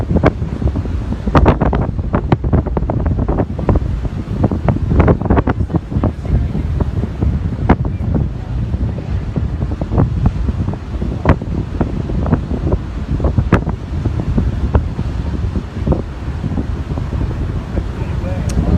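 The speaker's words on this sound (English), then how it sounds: "And I have my back to the wind right now." Strong wind buffets the microphone at high tide on Ortley Beach, a loud continuous roar with surf beneath it, as a person talks over it.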